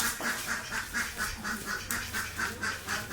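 A flock of seven ducks brought home from a market quacks in a fast, steady rhythm, roughly a dozen short calls in quick succession, fairly faint and with no talking over them.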